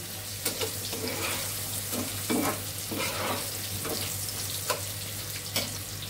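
Ash gourd, pointed gourd and eggplant frying together in a pan give a continuous close sizzle with occasional clacks of a stirring utensil. No one speaks.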